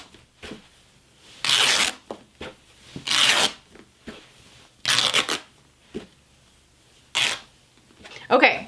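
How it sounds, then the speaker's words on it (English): Scissors cut a finished seam off a piece of fabric, with repeated loud, close rasping snips and fabric rustles in uneven bursts separated by brief quiet pauses. "I'm gonna go ahead and cut this finished seam off of my"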